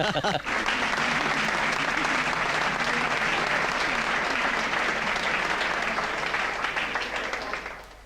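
A crowd at a performance bursts into sustained, loud applause for several seconds, with some voices mixed in, before the clapping thins out toward the end.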